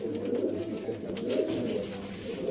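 Sialkoti Ali wale pigeons coo softly and steadily, a low continuous burbling murmur from several birds nearby.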